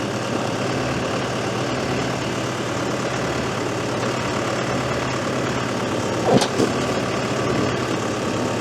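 Tractor engine idling steadily nearby as hay bales are loaded onto a trailer twelve at a time, a continuous low rumble with a brief clunk partway through.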